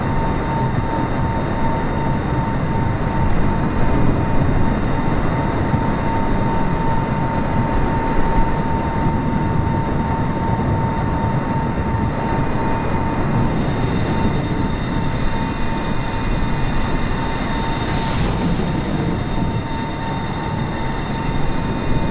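A Boeing 747 in Microsoft Flight Simulator descends for landing at sea during a storm, a loud continuous engine roar with steady tonal hum, unbroken and close for the whole stretch.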